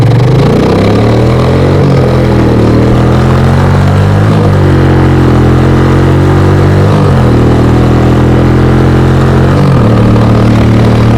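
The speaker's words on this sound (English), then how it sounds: "So straight through exhaust on this bike, and she's by far the loudest bike I own" A 125 motorcycle with a straight-through exhaust revs loudly and continuously up close, its engine note rising and falling through several gear changes as it rides past, with no talking.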